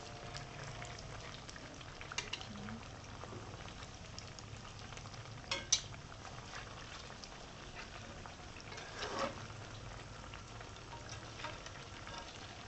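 Cassava pieces frying in hot oil, a steady soft bubbling sizzle running throughout with a few brief clinks and stirring knocks, moderately quiet and without voices.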